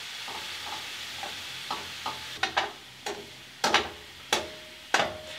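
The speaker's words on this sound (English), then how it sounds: "I'm just gonna baste my bacon." Vegan tempeh bacon basting in liquid seasoning in a pan gives a low continuous sizzle broken by a series of sharp utensil taps and scrapes against the pan, growing more frequent, close with no voices.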